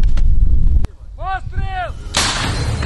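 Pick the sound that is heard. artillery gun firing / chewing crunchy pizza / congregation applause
artillery gun firing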